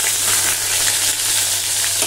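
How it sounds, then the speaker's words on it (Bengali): Fish fries in a pan on a home kitchen stove, giving a close, continuous crackling sizzle with no voices. "কত মাছ ভাজা বসিয়ে রেখে"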